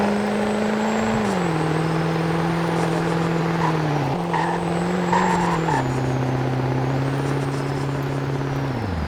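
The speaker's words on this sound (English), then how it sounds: "still a diesel truck after all" A stock diesel 2002 Chevrolet Silverado truck in a video game accelerates through several gear changes, its loud steady engine drone stepping down in pitch at each shift, with no talk over it.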